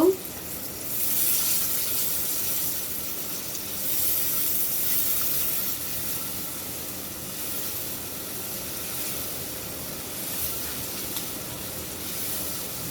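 Salted onions fry in a pan, giving a steady soft sizzling hiss that swells and eases slightly throughout, with no other sounds.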